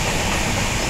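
A train running on the rails gives a loud, steady rumble and hiss with no pause, heard close up from inside the carriage.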